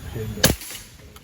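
A single sharp crack from a Bocap Monster Xtra PCP air rifle firing a pellet, close and brief, followed by a faint distant tap.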